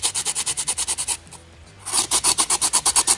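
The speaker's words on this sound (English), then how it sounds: "any high spot or thick spots, you wanna kinda come in, sand those down. You want to sand all the way around." A carbon fiber bullet mirror bezel is sanded by hand with coarse 60-grit sandpaper. Loud, rhythmic rasping strokes come in a fast steady series, pause briefly, then resume at the same pace.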